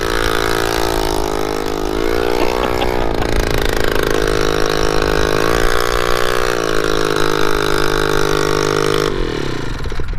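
A small engine with poor jetting and no exhaust baffle revs loudly and raggedly, rising and falling several times in a harsh, buzzy drone, close up with no talking.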